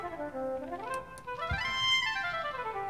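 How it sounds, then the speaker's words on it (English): A synthesized oboe tone from the PlayStation's internal sound source plays a soft, gliding melodic line of sustained reedy notes. It is quiet and heard alone. "This is the sound of the oboe."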